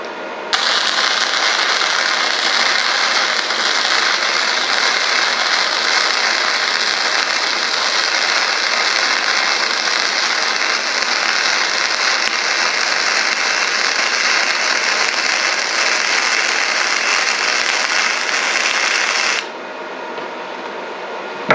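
A 110V flux core MIG welder lays a weld with a loud, steady crackling hiss that holds evenly for about twenty seconds and then cuts off abruptly.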